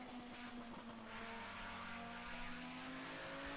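An Audi quattro driving, a steady engine drone with a sustained tonal whine that holds fairly even, faint and continuous throughout.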